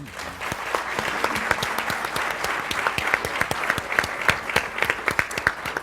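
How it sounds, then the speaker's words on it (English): Crowd applause at an evening leadership event marking a school principal center's anniversary, with distinct individual claps close by over a continuous wash of clapping. "just that in and of itself deserves a round of applause"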